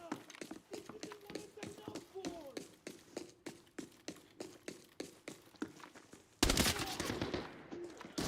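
MP5 submachine gun fire in a video game, heard as regularly spaced sharp shots in quick bursts, fairly quiet and distant, ending in a louder, denser clatter near the end.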